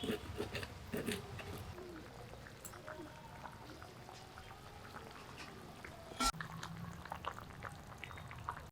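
Hilsa fish curry with potato and pointed gourd is stirred in a pot on a stove. Soft bubbling and scattered scraping clicks repeat through the clip, with one sharp knock near the end.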